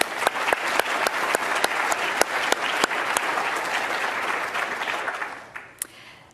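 Audience at a conference closing ceremony applauding, a dense burst of clapping with sharp individual claps standing out, sustained loudly before tapering off near the end.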